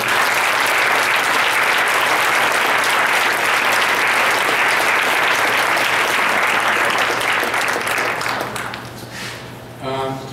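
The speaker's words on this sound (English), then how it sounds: "Could you all please stand and give them a big round of applause?" A standing audience at a December holiday celebration gives loud, sustained applause for about nine seconds, dense and continuous, before it tapers off and a voice begins to speak.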